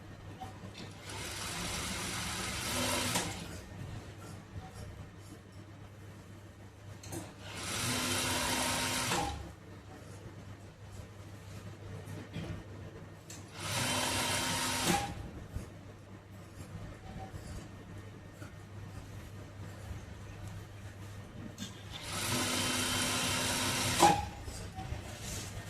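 A sewing machine stitches a blouse lining in four separate bursts of rapid mechanical whirring, each a few seconds long, with quiet pauses between them and a faint steady hum underneath.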